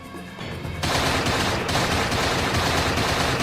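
Rapid, sustained automatic gunfire rattles loud and close, building from a lighter burst into a dense, continuous stream of shots.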